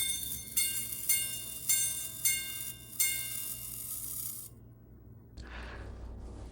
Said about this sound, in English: I'm going to go ahead and remove these gongs because I don't want to get tired of hearing that chime